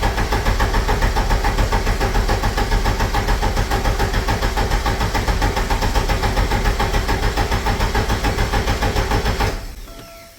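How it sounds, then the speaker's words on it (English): A Porsche 944 engine, freshly fitted with new fuel lines after being drained of fuel, runs at a steady rhythmic idle close by for about nine seconds before cutting off. "it's gonna take a little bit longer to start because we drained the fuel out of the car"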